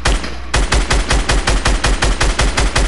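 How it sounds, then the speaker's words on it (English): Rapid shotgun fire in a video game, a loud evenly spaced string of about a dozen sharp shots after a brief opening burst of noise, with no talk. "You cannot tag me from that far with the shotgun."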